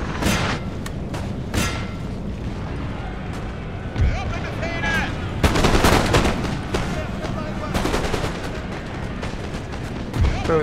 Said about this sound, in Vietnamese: Pháo nó bắn ầm ĩ qua đây